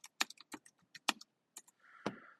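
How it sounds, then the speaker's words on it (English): Close keystrokes on a computer keyboard as text is entered into a spreadsheet cell: a quick, uneven run of crisp clicks, then a brief soft whir, with no one talking. "we're going to type in the company name."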